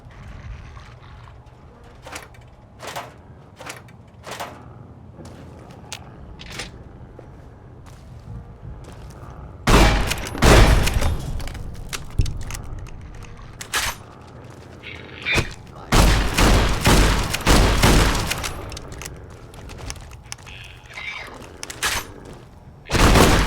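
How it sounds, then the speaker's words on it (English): Weapons firing in the game Fallout New Vegas: scattered sharp single shots at first, then loud bursts of rapid gunfire and booming blasts in clusters, with no talking. "Firing weapons."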